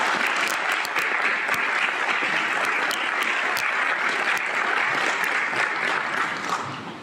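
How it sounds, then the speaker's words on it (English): An audience at a National Honor Society induction ceremony applauds the inductees with steady, bright clapping that fills the room and tapers off slightly at the end. "I think we should give them a round of applause"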